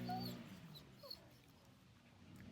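A dog at a home yard gives a soft, faint whimper near the start, followed by quiet background noise.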